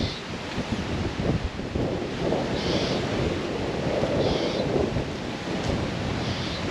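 Ocean waves break and wash onto the shore along the Queensland coast, a continuous roaring surf with rolling swells, steady and fairly loud with no voices.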